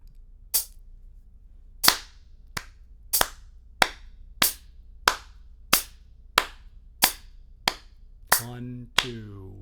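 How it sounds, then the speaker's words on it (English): Close, crisp hand claps keep an even, quicker pulse, about a dozen in a row, and a voice starts talking over the last few. "I'm going to play 2 claps for each of these pulses."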